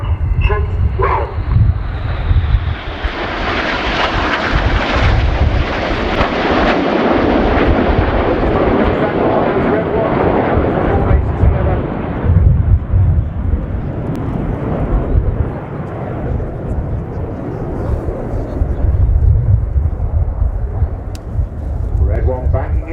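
Royal Air Force Red Arrows jets thunder past in a flying display at an air show, a loud roaring pass that swells and then fades away into a lingering distant rumble.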